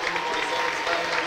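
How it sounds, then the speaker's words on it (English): Crowd applause in the stands at a high school football game between Lorain and Avon Lake, a steady dense wash of clapping and crowd noise filling the whole stretch. "A round of applause"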